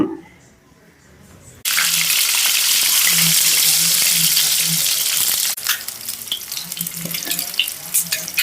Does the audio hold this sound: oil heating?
yes